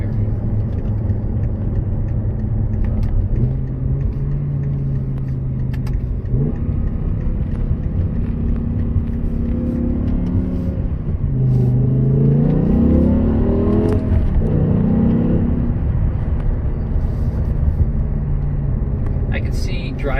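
A 2008 BMW M6 with a 500 hp engine cruises along a lakeside road, its low engine drone and tire rumble steady under someone talking, rising into a brief acceleration midway before settling again.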